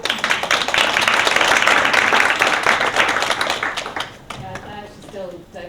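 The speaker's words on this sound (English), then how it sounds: "Big round of applause for Emma Cannon" An audience applauds Emma Cannon at a talk, a dense, steady round of clapping that fades toward the end as a voice begins to speak.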